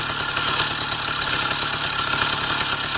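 A Riga-13 moped engine idling after being started, a loud, steady buzzing putter with rapid even firing pulses throughout, close by.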